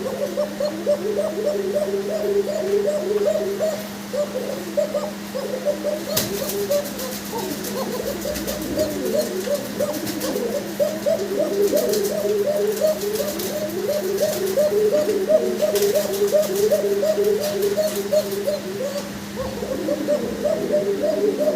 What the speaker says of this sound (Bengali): ডাক শোনেন দর্শক দু এক মিনিট দু এক দুই দশ সেকেন্ড ডাক শোনেন